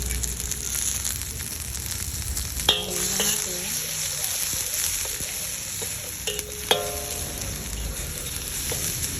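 Steady sizzle of garlic and onion frying in a deep stainless steel wok, with a couple of sharp clanks of a utensil stirring against metal.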